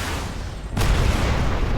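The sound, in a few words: helicopter shot down, explosion in a video game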